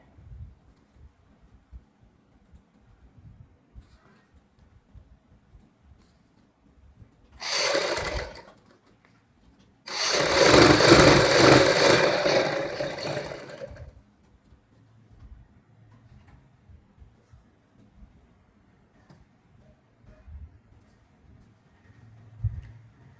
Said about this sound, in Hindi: यहाँ से इस पीस को हमने पकड़ना है और खींच के सिलाई लगानी है